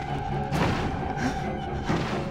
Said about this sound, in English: Oh my god, he's banging on the door